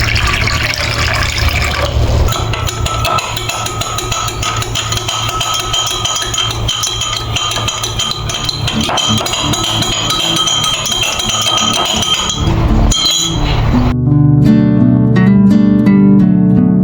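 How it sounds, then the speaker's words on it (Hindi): Water pours from a clay pot into a glass, a long continuous trickling stream with glassy clinks, ending in a brighter ringing, resonant tail as the glass fills. "तो यहाँ मैंने घड़े का पानी ले लिया है"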